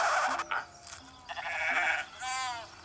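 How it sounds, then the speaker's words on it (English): A cartoon sheep from Shaun the Sheep gives one wavering bleat near the end, preceded by short bursts of other sound effects. "Comes everyone's favorite farm animal, Shaun the Sheep."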